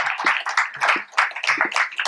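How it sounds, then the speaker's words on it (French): At a conference, a small group applauds with close, uneven clapping that keeps up a steady patter for about two seconds. "On peut vous applaudir."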